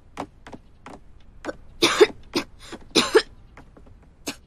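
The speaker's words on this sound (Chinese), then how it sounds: "感冒都治好了，可还咳嗽，吃多少药都不管用。" A woman in a costume drama who still has a lingering cough after a cold coughs several times in close succession, near and fairly loud, with two heavier bursts in the middle, and no speech.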